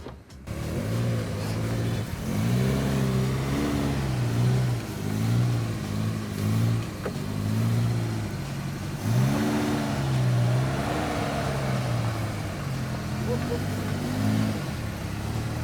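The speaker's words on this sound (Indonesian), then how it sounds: "saya mencoba melewati sebuah alur air yang cukup dalam untuk sebuah Katana" A Suzuki Katana off-road drives through a deep water channel, its engine revving and surging in repeated pulses, loud and close, with some water rush and no talking.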